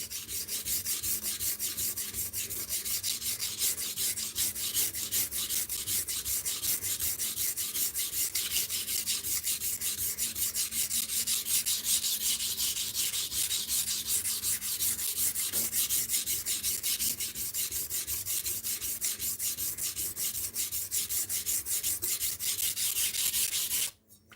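Steady, continuous rasping as the tip of a wooden piece is ground down, an even rubbing texture that holds for the whole stretch and then cuts off abruptly at the end, with no voices.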